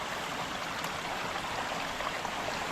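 Water runs steadily through a small, narrow seep-fed stream in a tree-covered forest, a continuous close rushing and trickling wash with no voices.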